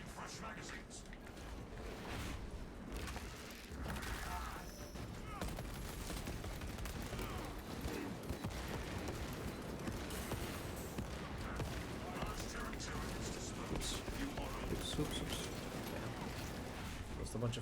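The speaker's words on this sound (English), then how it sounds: "grenades here from the rifle." Rapid rifle-launched grenade fire and explosions from a Space Marine 2 solo operation, a dense continuous barrage of blasts and gunfire with battle noise throughout, loud and close.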